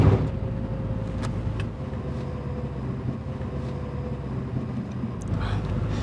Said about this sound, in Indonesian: Itu mobil truk kenapa kenceng banget ngejar ke sini ya?